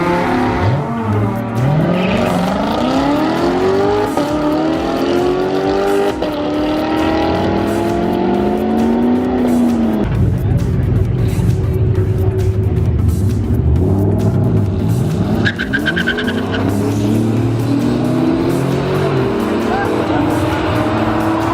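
Lamborghini Huracan on a drag strip, engine revving hard through repeated rising gear sweeps, loud and continuous with a brief drop and re-surge midway, tire noise mixed in, voices faintly under it.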